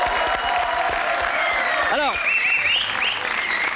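A talk show audience in the studio breaks into applause, a dense steady clapping with a few cheers before a host's voice comes in over it.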